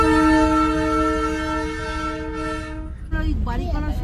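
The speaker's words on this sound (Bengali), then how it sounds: "না টয় ট্রেন দেখেছিস?" Darjeeling toy train, a narrow-gauge mountain railway, sounds a long steady horn blast for about three seconds, loud and close. Rumbling movement and crowd noise follow in a rainy hill-town street.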